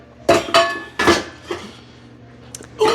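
Pots clattering and clinking as they are handled in a kitchen to boil water for soft-boiled ramen eggs, several sharp metallic knocks close by, then quieter, with a final clank.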